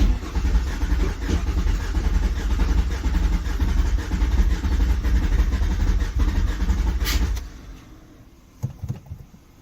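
A supercharged Nissan Maxima engine with a rebuilt, rough-running motor turns over and runs loud and steady for about seven seconds, then cuts out, leaving a few faint clunks in near silence.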